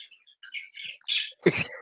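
Small birds chirp faintly in the background with a few quick, high tweets and short calls, with no talk over them.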